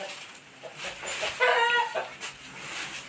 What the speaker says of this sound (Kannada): ಕೋಳಿ ನೋಡಿ ಮೊಟ್ಟೆ ಹಾಕ್ಲಿಕ್ಕೆ ಜಾಗ ಇರ್ತಾ ಇದ್ದಾಳೆ